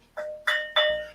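Three struck tones from a carved stone ring out in quick succession, each a clear bell-like chime with a sustained pitch that decays slowly, close and alone with no talk.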